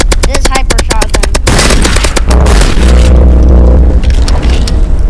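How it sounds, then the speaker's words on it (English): Rapid bursts of hyper shotgun fire in the video game Rivals, a series of loud sharp blasts in quick succession followed by booming game effects and a dense, constant mix of sound. "Now, this hyper shotgun."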